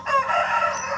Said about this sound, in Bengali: অনেকটা বড় ওই মোরগটা, আর এইগুলো মোরগ লড়াই খেলাতে ব্যবহার করেন